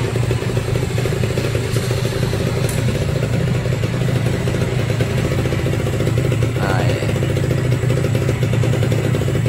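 A restored, formerly flood-damaged Kawasaki Ninja SS motorcycle engine idles smoothly and steadily up close, with an even low hum that holds throughout and a faint clatter of mechanical noise.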